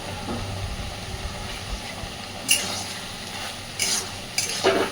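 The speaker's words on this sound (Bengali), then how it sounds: "খুব ভালোভাবে মিশিয়ে দিয়ে" A spoon stirs chopped snake gourd curry with sugar in a frying pan, a steady low scrape and sizzle with a few sharper clinks of utensil against the pan toward the end.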